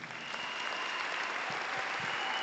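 A congregation at a French-language church service applauds for the Lord, with steady, dense clapping filling the whole stretch at moderate volume with no voices on top.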